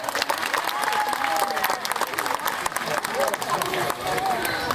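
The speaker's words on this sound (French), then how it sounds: "vous pouvez applaudir très très fort" An audience at a sea lion show claps loudly and continuously in dense applause, with crowd murmur underneath and a presenter's voice cutting through.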